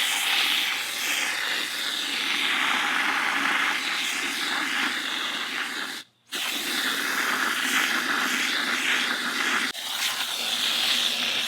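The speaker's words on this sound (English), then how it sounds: "We're gonna give it just a good rinse." Fluorite Dark aquarium gravel being rinsed outdoors with a steady spray of water, a continuous loud hiss with one brief break near the middle.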